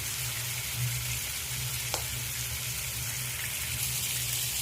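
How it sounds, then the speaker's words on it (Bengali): Rohu fish pieces sizzle in hot oil in a pan and are turned over, giving a steady close crackle with one brief sharp scrape or clink partway through. Nobody speaks. "উল্টে পাল্টে ভালো করে আমি ভেজে নেব মাছগুলো।"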